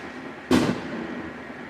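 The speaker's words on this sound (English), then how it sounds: "Oh, there's another firework." A single firework bang from a Fourth of July celebration, a sharp fairly loud burst with a brief decaying tail heard outdoors, no voices present.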